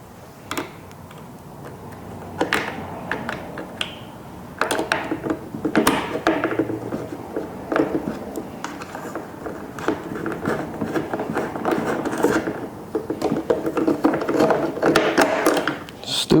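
Screw being driven into a neglected Chevy C10 squarebody truck and failing to start, irregular clicking, ratcheting and scraping taps close up, growing busier toward the end.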